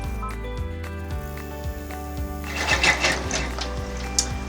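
Embroidery machine running a tack-down stitch on fabric, its needle hammering in a rapid steady rhythm with a motor hum, growing busier and louder partway through; close and alone without talk.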